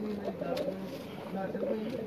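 Pigeons in a champion loft coo softly in low, repeated throaty calls, with a faint murmur of people talking behind the birds.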